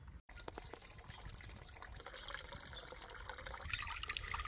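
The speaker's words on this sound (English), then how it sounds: "This uh, pump goes when the sun's out and I use it to water my wasabi and also circulates the water" A solar-powered water pump circulating water in a rural garden bed where wasabi grows: a steady, faint trickle and gurgle of flowing water that swells slightly toward the end, with no voices.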